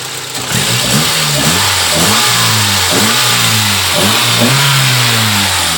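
A Nissan SR20DE car engine with a large MAF sensor idling steadily just under 900 rpm, close up, with a few brief revs that rise and fall back to a smooth, even hum.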